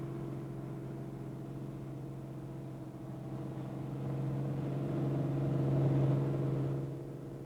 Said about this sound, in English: rollers begin ironing out the strips of bitumen